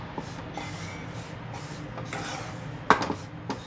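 A spoon scrapes and stirs wheat flour roasting in ghee in a pan for halwa, giving a steady soft rubbing texture with a few sharper knocks against the pan near the end.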